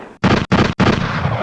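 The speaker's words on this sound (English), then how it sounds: "Gotta turn the gunshots up." Three loud, booming gunshot sound effects fire in quick succession, each a heavy burst cut off by a brief gap, the last ringing out slightly longer.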